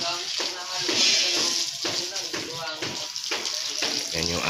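Water gushes and splashes into a cement-and-sand plaster mix at a building site, a loud, steady rushing pour heard beneath someone talking.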